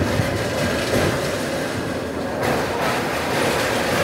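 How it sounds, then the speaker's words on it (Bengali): Passenger train crossing the double-track Kolaghat bridge over the Rupnarayan river, heard from on board as a continuous loud rumble with rolling wheel and rail noise and a brief change in tone partway through. "আমাদের ট্রেন এখন এসে পৌঁছালো কোলাঘাট স্টেশনে"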